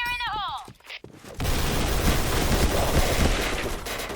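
Rapid gunfire from an AK-type rifle in the shooter game Point Blank, a dense loud burst of shots after a brief electronic warble, continuing steadily for several seconds.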